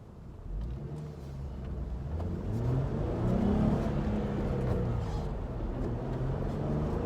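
A Jeep Wrangler JL engine revs up steadily and holds a rising, sustained drone, loud and close throughout with no talking.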